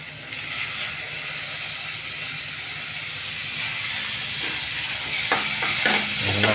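Chopped tomato stirred into a frying egg curry, heard as a loud, steady hiss and sizzle that swells slightly near the end, with a few faint scrapes and no voices.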